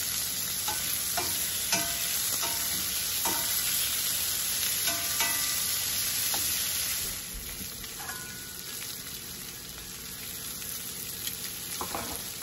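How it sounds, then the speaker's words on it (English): Cajun shrimp sizzle steadily in a hot pan, a continuous close frying crackle with occasional scrapes and clicks of stirring, easing slightly partway through. "So now the shrimp has been cooking on both sides."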